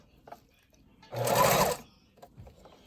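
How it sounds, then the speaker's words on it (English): A sewing machine makes a single short, close burst of back stitching on a ribbon tutu, lasting under a second, with quiet moments before and after. "gonna back stitch it."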